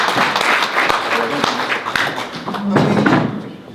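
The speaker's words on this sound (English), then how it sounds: "y'all gotta give him a round of applause, a hell of a round of applause." A post-fight press conference crowd applauding steadily the whole time, mixed with thumps and claps close by, and a voice speaking over it.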